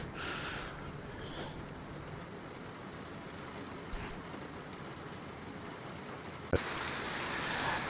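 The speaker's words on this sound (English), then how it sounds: "The rain has not stopped." Steady rain falls at night in a truck simulator game set in Finland, a soft continuous patter with a faint thump and a brighter wash of rain near the end.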